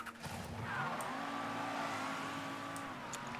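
In the Mafia 3 video game, a car with a V6 engine drives along with a steady engine hum and a rising rev, plus faint tire noise, continuing for several seconds without talk.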